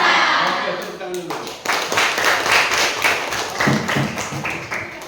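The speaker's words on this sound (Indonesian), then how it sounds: "Oke, tepuk tangan dulu" Students clap for a speaker at a vocational school outreach session held at a junior high school, the applause uneven and mixed with scattered voices and chatter throughout.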